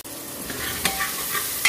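Chopped tomatoes and onion fry in a pan for a lauki (bottle gourd) curry, giving a steady close sizzle with a few sharp scraping knocks as a spoon stirs them.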